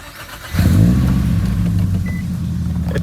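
A Nissan Sentra Spec V engine cranks and catches midway through, settling into a loud, steady idle rumble close by, with a brief electronic beep just before it fires.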